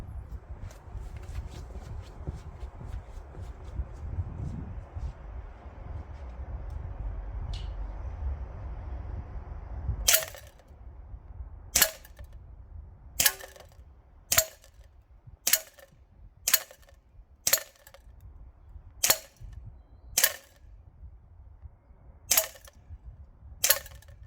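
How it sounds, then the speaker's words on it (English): A Cyma CGS gas-system airsoft gun fires at a target 10 meters away, a series of about a dozen sharp, loud cracks in an uneven rhythm, each short and dry, coming after a stretch of low background rumble. "now it's the turn of the Cyma gas system. Let's take it back to 10 meters as well"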